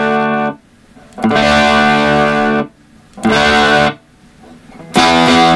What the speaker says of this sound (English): Give you a quick demo of the reverb.